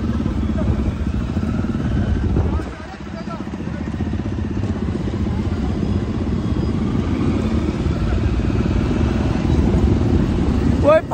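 Motorbikes riding past on a road, a steady loud engine rumble and drone that dips briefly, then continues close by throughout.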